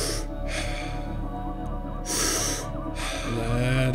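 Deep, forceful breaths during a guided breathwork exercise, three sharp airy inhalations through the nose spaced about a second apart, close and loud over a soft steady music bed.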